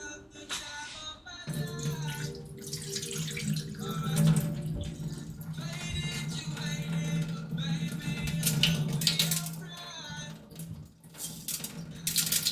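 Rice being rinsed in a pot under a running kitchen tap, with water gurgling and splashing, occasional grains and vessel clinks, and a steady close flow hum through most of the stretch.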